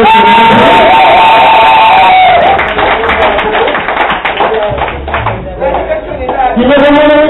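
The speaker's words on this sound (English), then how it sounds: "Could you give a round of applause for you?" A crowd at a travel group party in Guyana clapping and cheering over loud background music, with shouts and whoops mixed in and voices talking.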